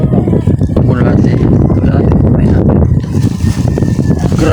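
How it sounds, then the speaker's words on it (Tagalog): Strong, cold wind at a river fishing spot in Busulan, Calumpit, Bulacan roars loudly and continuously, buffeting the microphone with heavy low rumbling gusts. "Grabe lakas ng hangin"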